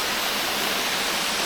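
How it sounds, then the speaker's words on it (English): Grey Mare's Tail waterfall in Wales pours with a steady, dense roar of falling water, loud and constant throughout with no pauses or voices. "But it's a stunner of a waterfall and well worth seeing."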